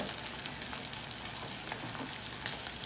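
Onion and green chilli frying in oil until golden brown, a steady close sizzle with faint crackles running throughout, no voices.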